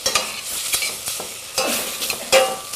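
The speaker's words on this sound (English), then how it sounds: "And then we're going to throw in the tomato" Tomato goes into a pan of spices frying in hot coconut oil and is stirred, giving a close, steady sizzle with repeated scraping strokes of the utensil and a louder hiss burst near the end.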